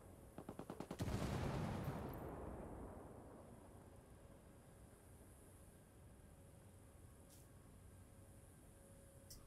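A quick burst of gunfire followed by a heavy mortar boom in Ghost Recon Ghost War, the blast rumbling and slowly fading into a low, steady background hum; no voices over it.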